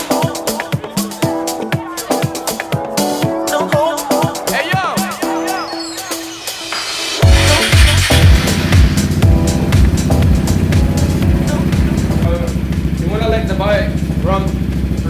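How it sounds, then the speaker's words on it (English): The engine of a Vespa GT/GTS/GTV scooter starts and idles with a steady, close, buzzy drone after a coolant flush, with people talking nearby. "Okay, let's now run the scooter,"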